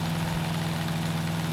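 A small gasoline engine idles at low throttle on a homestead with a steady, even, low hum and no pauses, close by.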